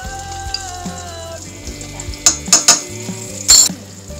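Chicken feet frying in a pan with chili and a low sizzle, punctuated by several sharp metallic clinks and scrapes of a utensil against the pan.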